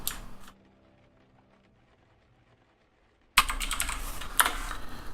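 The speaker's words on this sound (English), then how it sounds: "So I haven't tried typing Jordan in with a capital J" Keys tapped on a computer keyboard in a point-and-click game, a short burst at the start, then near silence, then a denser run of crisp clicks close by.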